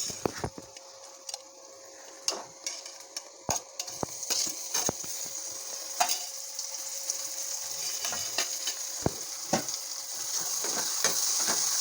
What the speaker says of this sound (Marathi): अदरक लसूण ह्या ठिकाणी फ्राय झालं आहे तर मी ह्या ठिकाणी टोमॅटो ॲड करून घेते आहे